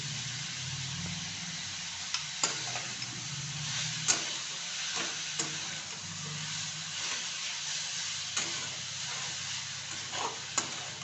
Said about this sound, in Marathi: चांगलं हलवून मिक्स करून घेऊया